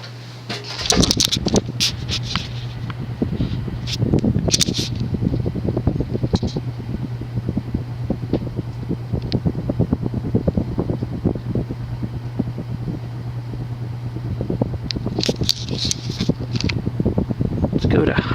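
Hunter (Robbins & Myers) Comfort Breeze 52-inch ceiling fan from around 1983, with cheap wood blades, running with a constant low motor hum and soft airy rustle, with a voice talking over it at times.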